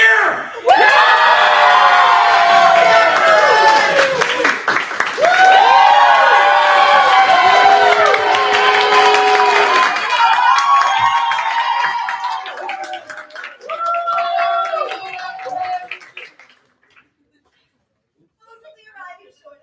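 A large crowd cheers and whoops at a coronation banquet, loud and sustained with shouting and clapping, thinning out over the last seconds before falling quiet.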